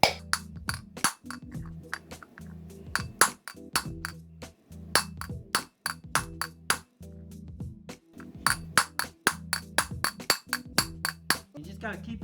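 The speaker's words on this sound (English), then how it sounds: "I'm gonna pound it with a hammer and try to get it in there nice and straight and bottomed out." A hammer strikes a wheel bearing race into the hub of a 1974 Chevy Nova in sharp, ringing metallic blows, rapid irregular bursts close up, with brief pauses between runs of hits.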